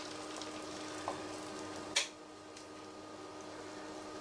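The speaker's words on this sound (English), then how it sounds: "Now it's in the pan, cooking away." Sausages fry in plenty of oil in a pan with a soft, steady sizzle and crackle, broken by a couple of sharp clicks or pops.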